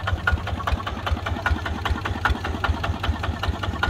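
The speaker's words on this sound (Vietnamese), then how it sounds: "Máy chạy ghiền quá trời đó." A Kubota engine idles steadily with a rapid, even low knocking pulse and mechanical clatter, close and continuous throughout with no talk.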